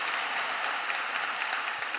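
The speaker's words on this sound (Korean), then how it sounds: "하나님께 영광의 박수 드리겠습니다." A church congregation applauds, dense even clapping filling the room at a steady moderate level throughout, with no voices over it.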